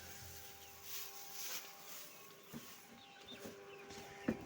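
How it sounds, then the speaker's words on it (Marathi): Free-range village hens cluck faintly outdoors, short scattered calls over a quiet background with soft rustling and one sharper sound near the end. "आता बाहेर आहेत कोंबड्या काहीतरी"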